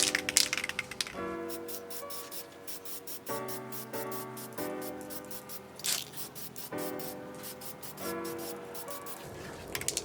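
Spray paint hissing on the rear honeycomb grille of a Mk6 Fiesta ST, laid down as a light first coat of black gloss in several short, close bursts with brief pauses between them.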